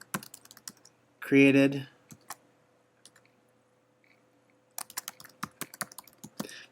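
Computer keyboard typing while a title is entered into a sermon-preparation note, heard as scattered, close key clicks in two short bursts, with a short spoken word between them.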